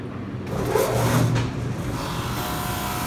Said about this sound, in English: I take the wood over to the planer to get the surface even